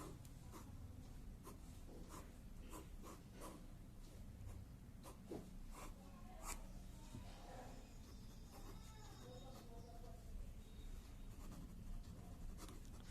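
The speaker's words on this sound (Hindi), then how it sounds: "मैं यहीं पे लिख देता हूं।" Chalk or marker strokes scratch across a classroom board in quick, uneven bursts, faint and close, with a brief pause between groups of strokes and low room noise throughout.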